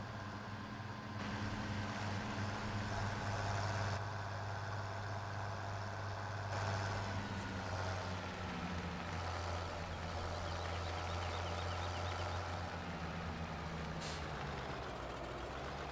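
Truck-like vehicle driving in Farming Simulator 17, a steady low engine drone with a hiss of air brakes, continuous and fairly close, no talk.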